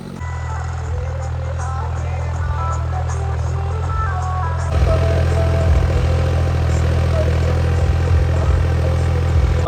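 A 55 HP tractor engine runs steadily while driving a rotavator in a farm field, a loud, continuous low drone with clattering mechanical texture that grows heavier and louder about halfway through.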